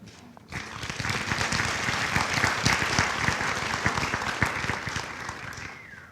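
A large audience at a university commencement ceremony applauds steadily, dense clapping that starts abruptly and holds at an even level for several seconds.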